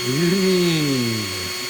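A power tool spinning a sanding stick whirs up to speed with a high electric whine that slowly drops in pitch as it spins down.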